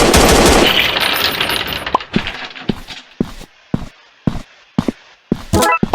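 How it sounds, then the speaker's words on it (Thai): Gunfire in an online survival video game: a dense, loud burst of rapid shots opens the clip, then sharp single cracks and short volleys ring out at irregular intervals. "นี่ไง นี่ไงมันยิงผมละยิงผมละ"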